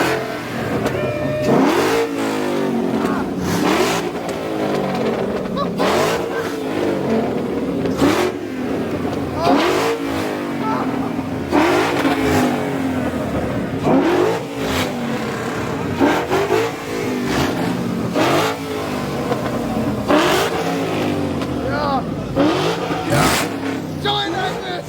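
A car at a university student car meet is revved hard again and again, the engine climbing and dropping in repeated loud close bursts, with people's voices and crowd noise underneath.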